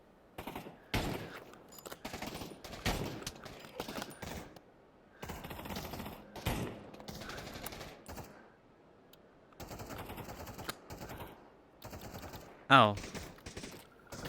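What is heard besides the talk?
gunfire from a World War II bolt-action rifle in a VR video game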